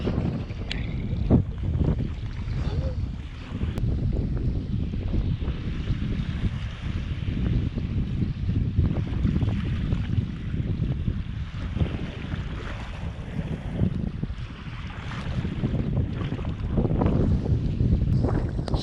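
Gusty wind buffets the microphone while sea kayaking off Wardang Island, a continuous rushing roar that swells and eases, with faint water sounds beneath.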